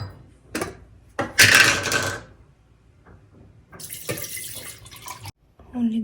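Water poured into a kettle in a home kitchen, a couple of brief splashing bursts and a longer trickle separated by quieter pauses and small knocks, with faint background sound.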